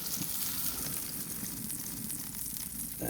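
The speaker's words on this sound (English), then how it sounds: "Let's get that steak on and start grilling." A chuck steak grills on a shovel over fire, giving a low, steady sizzle and crackle throughout, close but fairly quiet, with a brief louder burst at the very end.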